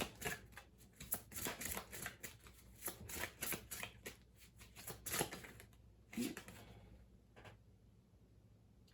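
Oracle cards shuffled in quick riffling bursts and soft slaps, a dense run of crisp card flutters that thins out toward the end, close and fairly quiet with no talking.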